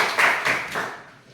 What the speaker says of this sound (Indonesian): kita tepuk tangan dulu buat Martin